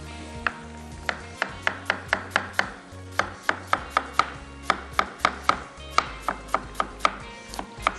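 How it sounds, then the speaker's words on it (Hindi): A knife julienne-cuts cabbage, iceberg lettuce and onion for chicken chili shawarma, a rapid series of crisp chopping strikes on a board in quick, steady bursts, close and clear with no talk. "Julian cut."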